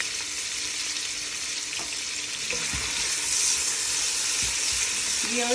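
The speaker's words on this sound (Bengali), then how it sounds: "বড় মিডিয়াম সাইজের 2টা পেঁয়াজ। সাথে আমি একটু লবণ দিয়ে দিচ্ছি, তাহলে পেঁয়াজটা দ্রুত সিদ্ধ হয়ে যাবে।" Two large-medium chopped onions fry with salt in a pan, a continuous close sizzle with occasional stirring scrapes that grows slightly louder toward the end.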